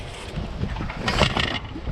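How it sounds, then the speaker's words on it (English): Gusty wind buffets the microphone in a loud, rumbling roar that swells briefly near the middle, with no talking, beside a wooden Tahiti gaff cutter sailboat. "it's windy"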